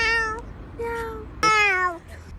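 A cat meows three times in a row, close and clear, the last meow the loudest and longest.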